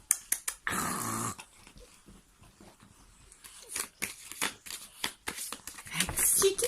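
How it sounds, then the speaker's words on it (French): Dogs growl while snatching at cards spread out indoors, a fairly faint scuffle of low growls, rustling and crunchy snapping that comes in bursts with pauses between. "Maintenant, c'est mes chiens qui font les cartes."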